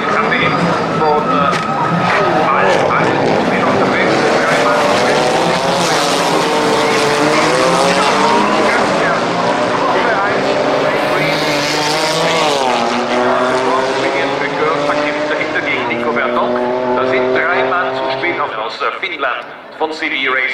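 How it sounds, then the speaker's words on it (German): DTM Trophy race cars start a race at the Norisring street circuit, a loud roaring pack of engines rising and shifting gears as they accelerate toward the first corner. A commentator speaks in German throughout. "Der Start geht los und Nico Verdonk übernimmt die Spitze hinein Richtung erste Kurve"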